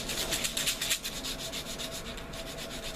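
Sandpaper rubs back and forth over a notch cut into a wooden arrow shaft, producing a close, steady rasping scrape with quick rhythmic strokes.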